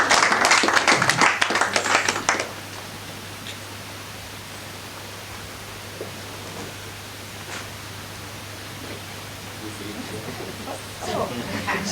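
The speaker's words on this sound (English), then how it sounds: "clap please as she comes." An audience at a certificate presentation claps loudly for a couple of seconds as a recipient comes forward, then the applause falls away into quiet room noise with faint scattered claps, picking up again at the very end.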